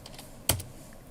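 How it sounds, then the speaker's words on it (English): A single sharp, close keystroke on a computer keyboard while entering a password in an Ubuntu terminal, set against a quiet room. "type the password"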